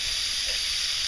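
Red onions sizzle over hot coals on a grill, a steady, close, bright crackling hiss that runs evenly throughout the short moment with no voices.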